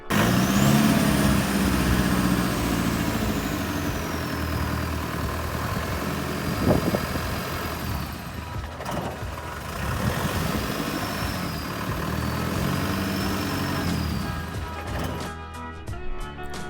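A diesel Land Rover Defender 90, revived after 13 years abandoned with a new fuel pump and filter but still reluctant to rev, idles with a steady, loud, close-up rumble that runs unbroken for the whole stretch.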